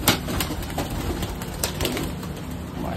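Pigeons at a pigeon farm in Rajshahi coo and stir faintly against a dense, steady background hiss, with a few soft flutters scattered through.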